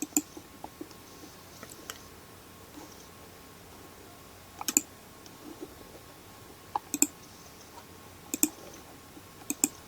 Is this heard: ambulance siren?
no